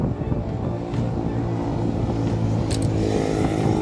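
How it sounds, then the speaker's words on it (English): Strong wind blows across an outdoor camera microphone, making a loud, constant low rumble and buffeting through the whole stretch, with a few faint higher noises in the background. "Wow, the wind is really strong."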